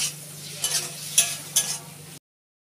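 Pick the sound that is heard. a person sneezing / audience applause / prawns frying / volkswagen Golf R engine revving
prawns frying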